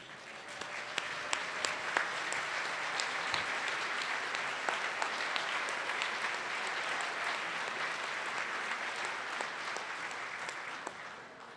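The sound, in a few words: applause for lifetime friends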